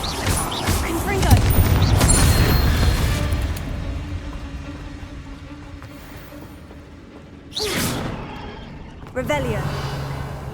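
Fire spell blasts cast repeatedly in Hogwarts Legacy, with loud bursting explosions early on, then two more sharp blasts near the end, over game ambience and a voice speaking.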